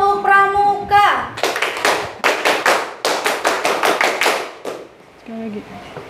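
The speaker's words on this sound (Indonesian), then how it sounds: "Tepuk pramuka." Rhythmic scout-style clapping by a school class in Indonesia, a series of sharp, loud claps in a patterned beat after a short spoken lead-in, with children's voices at the start and end.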